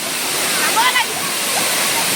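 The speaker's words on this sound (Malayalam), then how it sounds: "പാറമട, കല്ല് പൊട്ടിച്ചുണ്ടായ പാറമടയിൽ വനത്തിൽ നിന്ന് വെള്ളം വന്ന് വീഴുന്നൊരു വെള്ളച്ചാട്ടമാണിത്." Waterfall of forest water pouring into a rock quarry, a steady broadband rushing roar that stays loud throughout, with a faint brief tonal sound partway through.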